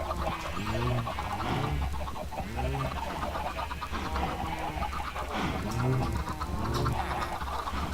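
Chickens in the video game Blood N Bones cluck and squawk in repeated bursts, several birds calling close together over a steady background hum with no speech.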